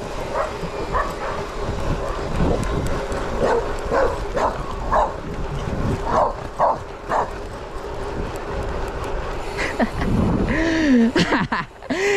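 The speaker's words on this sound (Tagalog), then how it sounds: "inahabol pa ako ng aso" A dog barks while chasing a cyclist on a bike ride, letting out repeated yapping barks and a few whimpers over steady wind rush, with the barking growing sharper and closer toward the end.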